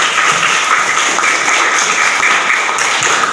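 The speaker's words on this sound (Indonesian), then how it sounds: "Iya, tepuk tangan untuk Pano." A classroom group claps for a student, a dense, steady patter of many hands running evenly from start to finish with no talking over it.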